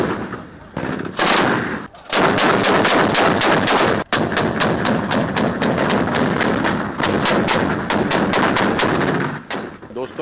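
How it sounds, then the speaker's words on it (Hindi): Sustained army gunfire at the Gopalpur training centre in Odisha, a loud, dense run of rapid automatic bursts and repeated shots with brief gaps, continuing for the whole stretch. "ये जो आपने अभी फायरिंग देखी है, यहाँ पे इतने राउंड फायर हो गए"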